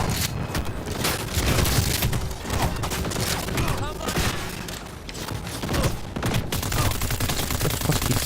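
Gunfire aimed at the player in a video game, dense overlapping shots and bursts layered over rumbling game sound, close and loud throughout, with a voice talking over it.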